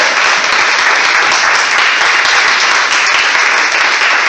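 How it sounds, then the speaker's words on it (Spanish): Loud, sustained applause from a church audience welcoming a pastor, dense steady clapping filling the space from start to finish with no voices standing out. "vamos a recibir a la pastora Susana con un fuerte aplauso"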